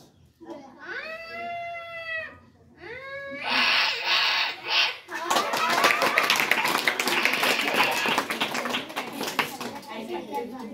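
A boy performer imitates a tomcat's meow with his voice in two drawn-out, yowling calls, followed by enthusiastic clapping and cheering from a crowd.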